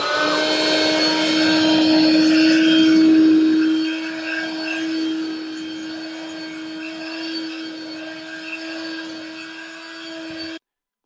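A Bissell Pet Stain Eraser portable carpet cleaner runs with its roller turning, giving a steady close motor whine and hum that eases slightly partway through, then cuts off abruptly at the end.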